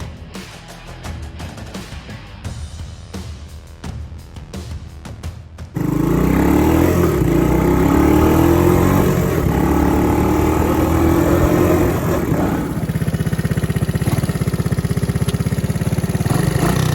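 A 1984 Honda ATC 200S three-wheeler, previously seized, sputters with uneven pops and clatter, then catches and runs steadily, a loud close engine drone that holds on.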